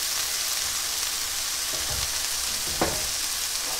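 Shrimp shell stock sizzles and fries in a hot pan, a steady bright hiss with a couple of soft stirring bumps and one sharper clatter near the end.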